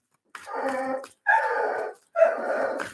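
A dog barks and growls in three drawn-out, loud bursts close by, each lasting most of a second with short silent gaps between them.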